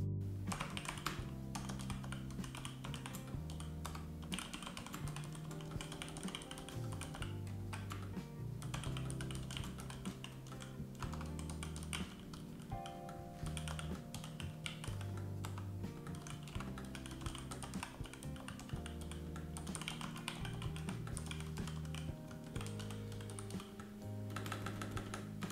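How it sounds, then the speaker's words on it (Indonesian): Continuous rapid clacking of a Razer computer keyboard being typed on up close, steady and busy throughout, with no voices. "Dan ini adalah contoh suara pengetikannya."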